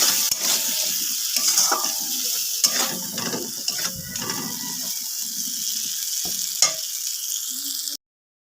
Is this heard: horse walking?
no